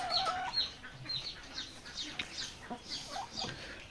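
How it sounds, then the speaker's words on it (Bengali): Tiger breed chickens clucking in a poultry pen, several overlapping clucks and short calls close by, with scattered chirps from other birds, no talking. "5 পিস টাইগার মুরগি রয়েছে,"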